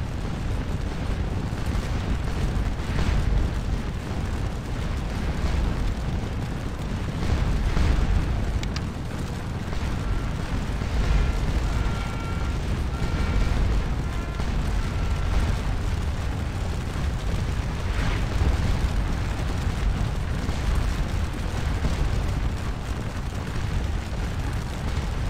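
Massed artillery fire in the Napoleonic Waterloo battle game Scourge of War: Waterloo, a continuous dense rumble of overlapping cannon booms rolling on without pause, loud and steady throughout.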